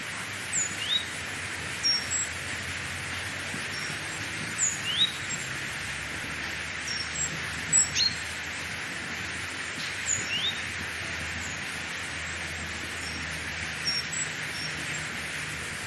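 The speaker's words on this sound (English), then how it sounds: "There's the woodpecker, which I've now heard for 4 days in a row." Several birds, including a woodpecker and a great tit, call in repeated short chirps and notes over a steady background rush of a nearby waterfall, moderately distant and unvoiced.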